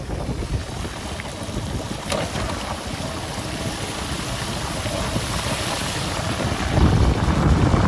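Steady heavy rain roars evenly without pause, a dense broadband wash that builds slightly louder toward the end.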